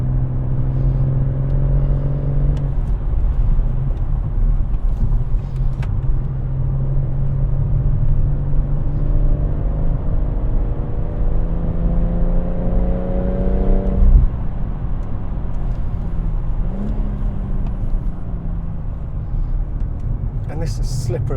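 A BMW M140i with Kumho Ecsta PS91 tyres and a limited-slip differential lapping a wet Goodwood circuit in the rain, its engine droning loudly from inside the cabin, the pitch climbing and dropping through several gear changes.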